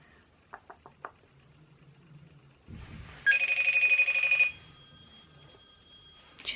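A phone rings with a FaceTime call, a bright electronic ringtone lasting about a second after a few soft knocks and a brief low rumble, heard indoors with no talking.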